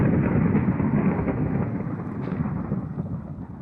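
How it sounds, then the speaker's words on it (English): A thunderstorm in the Minecraft video game sends a steady, loud low rumble of thunder and rain through the whole stretch, slowly easing toward the end, with no talking. "That's my first thunderstorm."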